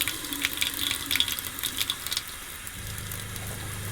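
Hot water runs from a faucet in a camper build, splashing and gurgling unevenly at first, then settling into a steady, quieter flow close by.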